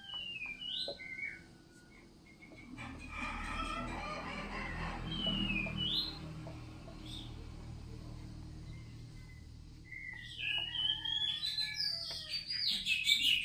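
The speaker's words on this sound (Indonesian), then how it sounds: "Burung-burung berkicau dan suasananya di taman sekolah itu tenang dan nyaman." Birds chirp and twitter in a school garden, scattered high tweets and short trills from near and far over a soft, steady low background hum, with quieter stretches between bursts of calls.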